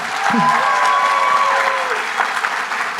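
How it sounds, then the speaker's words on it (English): Audience applause at a graduation ceremony, a dense steady wash of clapping from a large crowd that holds for the full three seconds, with a brief voice and faint tones faintly audible beneath it. "Let's have a round of applause for Mathieu Mondange, please."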